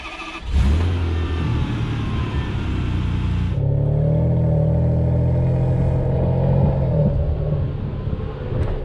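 A Ferrari Superamerica's engine starts, revs loudly and settles into a strong, steady drone as the car pulls away, close and loud throughout with no talking.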